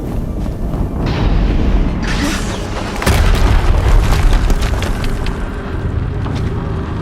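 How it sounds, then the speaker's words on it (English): A big explosion in the Horizon Zero Dawn video game, a broad rumbling boom that swells about a third of the way in and keeps roaring, loud and dense, with no voices over it. "Another explosion."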